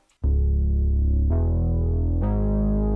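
A Poly D analog synthesizer plays a heavy bass shot with its filter closed down, giving three sustained, dark, buzzy low notes that change pitch in steps and stand alone at high volume.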